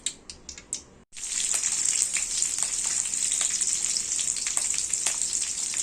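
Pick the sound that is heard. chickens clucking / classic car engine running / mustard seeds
mustard seeds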